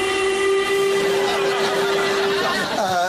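A steam train whistle gives one loud, sustained tonal blast that holds steady for almost three seconds before tailing off.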